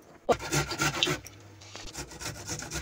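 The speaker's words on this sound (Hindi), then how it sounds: "अब मैं लहसुन को भी कद्दूकस कर लेती हूँ" Rhythmic rasping strokes of garlic being rubbed against a grater, several quick scrapes close to the microphone.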